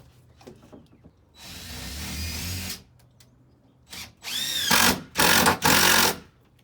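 Cordless drill driving screws into wood while building a nursery, with a couple of long, loud whirring bursts alongside shorter spurts and clicks between them, close by.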